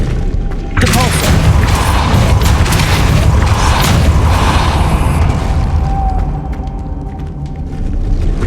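A Hogwarts Legacy Depulso force spell erupts as a sudden, loud boom, then rolls on as a dense, roaring blast for several seconds before easing into a softer rumble.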